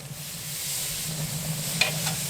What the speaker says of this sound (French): On va bien faire griller l'autre côté.